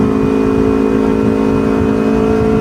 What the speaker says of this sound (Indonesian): Ini karena bunyi knalpot kenceng begini, knalpot racing.